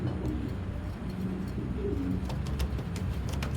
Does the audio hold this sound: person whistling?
no